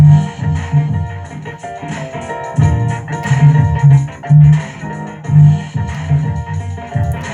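A full song arrangement with all its parts stacked over a punchy, groovy bass line, driving rhythmically at a loud level with no voices over it.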